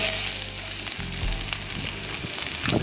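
Onions hit roughly three tablespoons of hot olive oil in a pan for seafood paella, giving a lively, close sizzle broken by a few scraping stirs and crackles.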